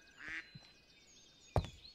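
Duck quacking in the video game Minecraft, a few short, clear quacks spaced across a quiet background, one early and a louder one near the end.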